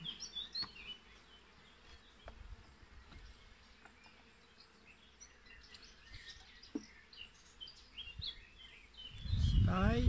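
Honeybees hum in an open hive with a buzzing, queenless colony during an inspection, a faint continuous drone with scattered soft clicks and handling noises that swell louder near the end.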